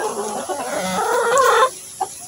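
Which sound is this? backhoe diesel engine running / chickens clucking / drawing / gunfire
chickens clucking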